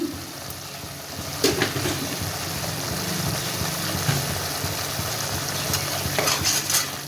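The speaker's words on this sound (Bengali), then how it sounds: "সুন্দর করে কষিয়ে নেব মশলাটা।" Spice masala fries in oil in a pan while being stirred, a continuous close sizzle broken by several clattering scrapes and knocks of a spoon against the pan, with no talking.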